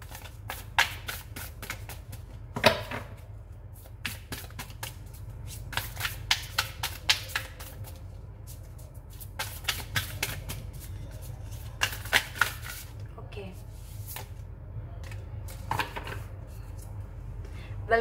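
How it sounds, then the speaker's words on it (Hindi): Tarot cards are shuffled and drawn by hand, giving repeated crisp riffling bursts and soft slaps across a steady quiet background, close and fairly clear. "ये मैं देख लेती हूँ अभी आपके लिए कार्ड निकालती हूँ।"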